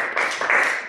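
Brief burst of audience clapping at a gallery poetry reading, close and moderately loud, lasting under a second with no talk over it.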